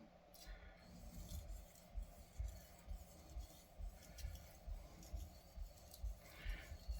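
A knife blade scrapes back and forth across a 3000 grit sharpening stone in a quiet, even rhythm of soft rasping strokes, roughly two per second, close and alone.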